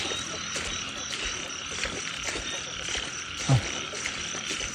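A dense chorus of frogs croaks continuously in rice fields, layered with insect trilling, with one louder close croak standing out near the end.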